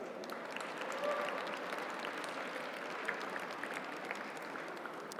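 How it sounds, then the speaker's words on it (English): An audience at a Lunar New Year gala applauds in a sustained, even wash of many hands clapping, with no pause and no voices over it. "Big round of applause for that."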